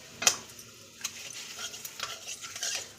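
Panch phoron five-spice and two bay leaves dropped into hot mustard oil left from frying fish, with a sharp crackle at first, then steady sizzling broken by a few utensil clinks; no talking.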